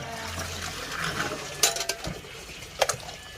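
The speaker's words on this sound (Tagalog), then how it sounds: "Tapos tapon natin ulit yung tubig." Water is poured out of a pot of boiled pork while tumbong soup is being prepared, a running gush with sharp splashes and clanks midway and near the end, close by with no talk.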